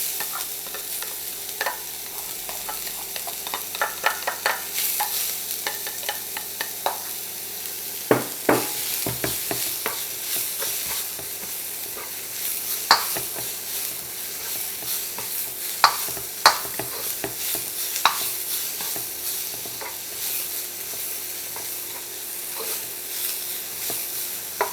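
Garlic and shallots frying in a pan over medium heat, a continuous close sizzle broken by scraping, clattering stirs of a utensil against the pan.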